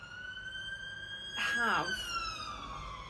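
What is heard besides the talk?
sirens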